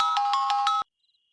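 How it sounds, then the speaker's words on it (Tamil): A phone ringtone sounds late at night, a loud electronic pulsing ring with four rhythmic beats that cuts off abruptly into silence. "இத்தனை மணிக்கு யார் ஃபோன் பண்றாங்க?"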